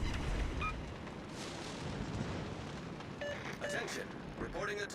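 15-inch naval guns firing in World of Warships: Legends, a deep rumbling boom rolling under game sounds, with someone talking over it.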